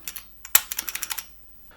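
IBM Model F buckling-spring keyboard keys being pressed: about a dozen sharp, close clicks in a quick uneven run, with one louder strike near the start and no voices.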